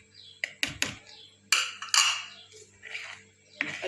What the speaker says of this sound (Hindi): अच्छी तरह हम इसे मिक्स कर लेंगे।